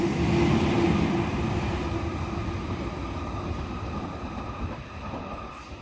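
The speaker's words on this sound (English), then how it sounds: "I guess we have an M set passing on the up main" A Sydney Trains M set electric train passes on the up main line at Turrella at night, a close, loud rolling rumble with a steady motor whine that slowly fades as it moves away.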